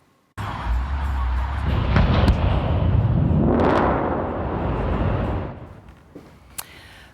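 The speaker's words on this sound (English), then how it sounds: "crews have contained a fuel tanker fire at the New Star facility" Fuel tanker fire at an ethanol storage facility, with storage tanks exploding in a sudden loud blast followed by a sustained, roaring rumble that lasts several seconds before fading, recorded from a distance while driving away.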